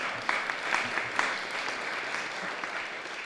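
Festival audience at a talk on the Standing Rock Dakota pipeline protests applauds, a moderate, even patter of many hands with a few sharper claps near the start, heard from some distance.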